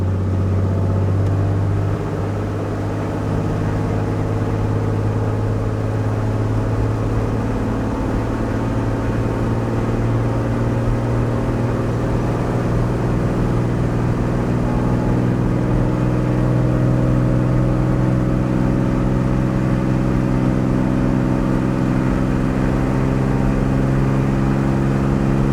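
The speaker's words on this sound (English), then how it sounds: "So I'm going to give it full throttle. Full throttle means maximum power." Aircraft piston engine held at full throttle and maximum RPM during a ground inspection run, a loud constant roar with a steady droning hum that barely changes throughout.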